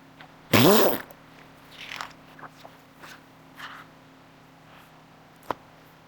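A loud, brief rubbery fart noise near the start, followed by quieter scattered rustles and a sharp click near the end.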